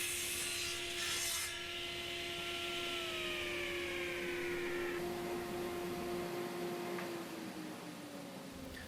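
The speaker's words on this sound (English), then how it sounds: "So I'm milling out obviously two parts here, the forend, which you see me cutting the length right now" Power tool cutting a hardwood blank to length for a 16 gauge shotgun stock forend, a steady close whine with slowly falling pitch and a rough rasping edge, running throughout without voices.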